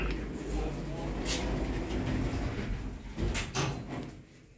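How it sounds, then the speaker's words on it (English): Lift doors slide shut inside the Stamford Quarter shopping centre in Altrincham with a low rumbling glide and a couple of soft knocks, while an automated voice speaks over it. "Doors closing."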